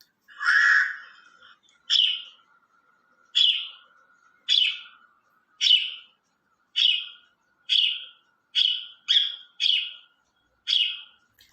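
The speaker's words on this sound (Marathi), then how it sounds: "अशा पद्धतीनं या चिमण्यांचा चिवचिवाट जो आहे तर तो सुद्धा सकाळच्याच वेळेला आपल्याला ऐकू येतो" Sparrows chirp in the morning: a longer opening call followed by about ten short, bright chirps repeated at a steady pace, clear and close against a silent background.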